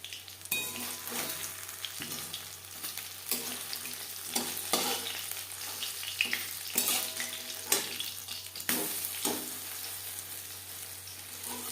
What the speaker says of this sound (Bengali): পরের মাছের চপ একইভাবে ভেজে নেব